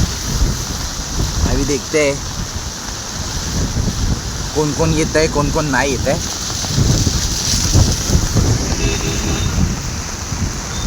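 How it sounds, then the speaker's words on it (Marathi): Heavy monsoon rain pours steadily during a thunderstorm, a dense loud roar with wind noise buffeting the microphone, while a person talks over it throughout. "व्ह्यू पण छान आहे आणि थंडरस्टॉर्म, लिटरली थंडरस्टॉर्म. घडघडतं आहे ना"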